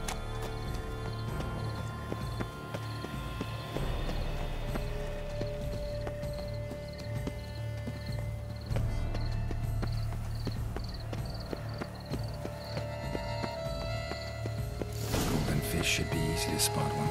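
Horse hooves clip-clop at a steady walking rhythm through gardens in The Witcher 3, mixed under continuous game ambience and music, with a brief brighter rustle near the end.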